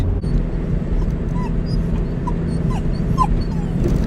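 A puppy whimpers in short high-pitched whines from inside a parked car, the faint cries repeating over a steady low rumble of engine and cabin noise.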